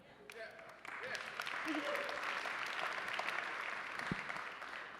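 Audience applause at a panel on the growth of NFTs at the TNABC 2022 conference, rising from a short pause into a sustained, fairly loud wash of clapping with a voice briefly heard underneath.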